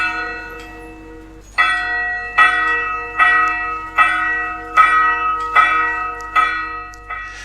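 Church bells ring out in a slow, even series of resonant strikes, each tone ringing on and overlapping the next, with no voices.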